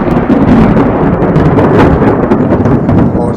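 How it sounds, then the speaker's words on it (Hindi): Cartoon storm with thunder, loud rumbling crashes and rushing wind-and-rain noise filling the whole stretch without a break, close and intense, with no voices. "अरे अरे देखो, ये कितना बड़ा तूफान आ रहा है हमारी तरफ"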